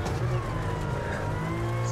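A steady, droning rally car engine in EA Sports WRC hums continuously with a buzzy, slightly wavering pitch, like a virtual race car cruising along.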